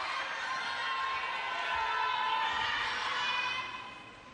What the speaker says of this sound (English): is start to the second from Shunsuke Togami, which has got the crowd whipped up